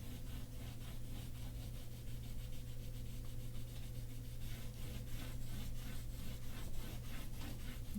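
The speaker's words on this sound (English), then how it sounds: "take your brown crayon and very lightly go over the whole thing with a little bit of brown" A brown crayon rubbed lightly over paper gives a steady, close, rhythmic scratchy rasping of back-and-forth strokes that continues evenly for the whole stretch without any voices.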